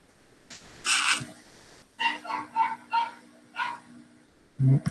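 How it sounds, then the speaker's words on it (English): A dog barks indoors in the background, a sharp yip followed by a quick run of four or five barks and a final louder bark, fairly close and clear with no talking over it. "There's my dog barking if you hear them."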